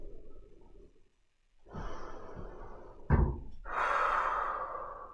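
Breath pushed out during a balance exercise, a quiet breathy exhale, then a pause, further rushing breaths and a soft thump, close to the listener with no talking.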